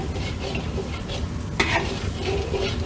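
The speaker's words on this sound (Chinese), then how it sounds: "慢慢的把這個鴨子煎香" Duck being stir-fried over low heat in a wok with plenty of rendered duck fat, a steady close sizzle with scraping and pushing strokes and one sharper clatter of utensil on metal.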